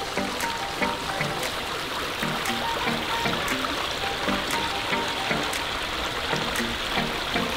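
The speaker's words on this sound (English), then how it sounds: "I love the waterfalls here." A backyard recreational pond waterfall splashes and trickles in a continuous, even rush of falling water, moderately loud and close, with small droplet spatters over the steady flow.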